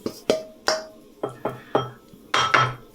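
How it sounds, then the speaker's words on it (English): Metal utensil clanking and scraping against a wok in a quick series of sharp, ringing knocks and scrapes, close and fairly loud with no talking. "I'll give my wok a quick scrub down"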